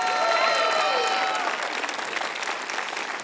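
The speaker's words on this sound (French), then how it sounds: "Oh, applaudissez plus fort que ça" A church congregation at an anniversary service claps loudly and steadily throughout, with cheers and a sustained voice over the start, then fuller applause continuing alone.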